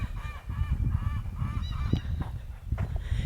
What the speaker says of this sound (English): Oh, they're really squawking.